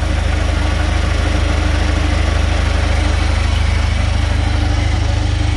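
A car engine idles steadily while the alternator charges the battery after a jump start with a GOOLOO GT4000S jump starter, giving a constant low rumble with a fine regular pulse, loud and close, with no voices.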